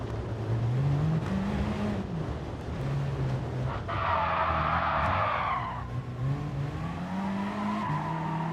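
Race car tires skidding and squealing as the car is shoved off the track in Gran Turismo Sport, a loud sustained screech of about two seconds over steady engine drone, with engine revving rising and falling throughout.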